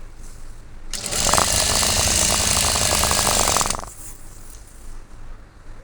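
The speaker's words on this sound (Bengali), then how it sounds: "এখন এর উপরে আরেকটা শিলি করে নেব।" A sewing machine stitches a seam on pants or a salwar in one loud, close, rapid burst of about three seconds, with quiet before and after.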